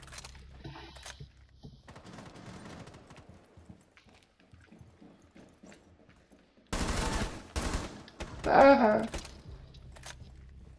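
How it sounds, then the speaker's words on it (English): Quiet, scattered game noise gives way to a sudden loud volley of gunshots in Rainbow Six Siege, with a sharp peak near the end. "Oh, you hear all those shots?"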